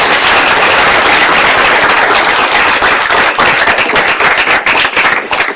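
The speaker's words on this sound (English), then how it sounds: "How about a round of applause for all the students?" Loud, dense applause from a large conference audience for the students, a sustained wash of many clapping hands lasting several seconds with no voices over it.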